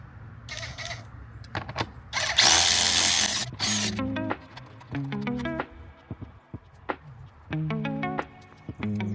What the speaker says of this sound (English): It's basically just an electric ratchet, 20 volt DeWalt, really cool.